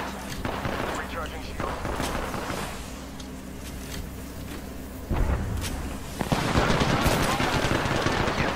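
Automatic weapon fire bursts repeatedly in an Apex Legends Arenas match, with loud rattling volleys under steady player chatter that swell louder near the end.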